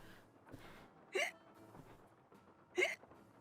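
Two distinct hiccups from Nancy Drew, the player character, after hiccup powder in a Legend of the Crystal Skull scene, sharp and close, spaced about a second and a half apart over a quiet background.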